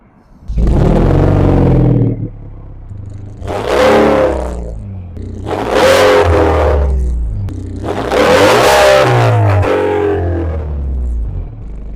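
Modified car engine revving hard, several loud, close throttle blips that swell into a roaring, distorted whine and then fall back to a deep rumbling idle between pulls.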